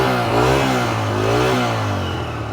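A 125cc motorcycle engine revs hard as the throttle is opened, its exhaust note climbing and falling in two loud surges, close and alone with no talk.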